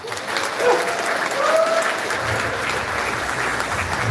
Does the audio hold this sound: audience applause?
yes